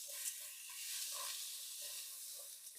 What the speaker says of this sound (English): I gather everything as usual, good, then I give it a nice stir.